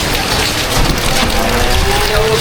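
Heavy monsoon rain falls during flooding in Gazipur, a dense, unbroken hiss of drops close by that holds evenly from start to finish.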